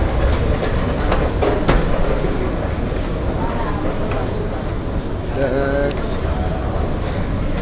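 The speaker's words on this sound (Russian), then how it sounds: "Вот такое у нас тут метро." A Buenos Aires metro train rumbles along with rattling clatter and a rising whine, loud and continuous in an underground station, with people talking in the background.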